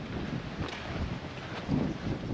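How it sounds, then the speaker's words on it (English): Wind gusting across an open campsite with a large campfire seating area in South Australia, a steady rushing roar buffeting the microphone, swelling briefly near the end. "oh, it's windy."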